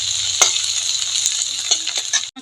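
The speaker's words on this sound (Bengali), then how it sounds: "একটু লাল লাল করে ভেজে নিব।" Chopped green chillies, ginger, garlic and onion fry in a pan, a loud steady sizzle broken by a few sharp clicks as a spoon stirs, with no talking.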